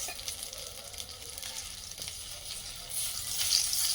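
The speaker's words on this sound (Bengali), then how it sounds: "প্রথমে মাছের চপটা ভাজলাম।" Fish chops frying in hot oil give a steady, close sizzle and crackle that swells louder toward the end, with no talking.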